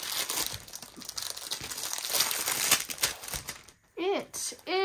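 Packaging of a Paint Some Way diamond painting kit, a stained-glass style Glass Art Animals set, crinkles and rustles as it is opened close up, followed by a short burst of talking at the end.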